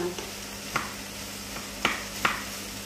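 Chipolata sausages and vegetables stirred in a sizzling pan, with a steady frying hiss and a few distinct utensil clacks against the pan.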